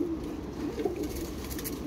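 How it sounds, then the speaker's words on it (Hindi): An adult male pigeon coos in a continuous low, throaty rumble close by, steady and unbroken, with no talking. "पक्की उम्र का कबूतर है"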